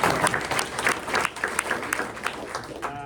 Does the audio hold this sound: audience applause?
yes